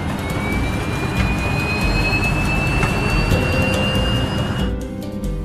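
Boeing 737 jet engines at maximum power during takeoff, a loud steady roar with rising whining tones that cuts off abruptly near the end, leaving a quieter hum.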